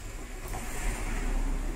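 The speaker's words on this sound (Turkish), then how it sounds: "Yoldan arabalar geçiyor." A steady broadband road roar of a car going by, with a faint engine hum underneath, continuous and moderately distant.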